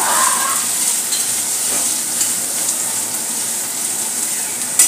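Vegetables being stir-fried for Schezwan fried rice, a loud, close, continuous sizzle with occasional clinks of a spatula against the pan, no voices.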